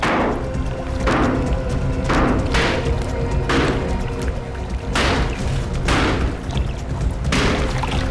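Heavy repeated thuds as a concrete water tank is smashed open, about eight blows at roughly one-second intervals, each a loud broadband crack against a constant watery rumble.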